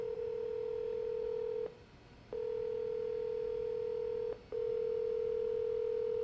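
Steady telephone tones sound loud and clean, then break off twice for short silences before resuming, like a handset's dial tone interrupted while calling back a property owner in Salem, Massachusetts.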